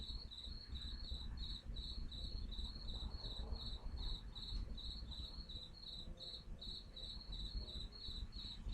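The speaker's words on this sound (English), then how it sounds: "The crickets got pretty loud this morning." Crickets chirp loudly in the morning, a steady rapid pulsing trill repeating without pause against a low background hum.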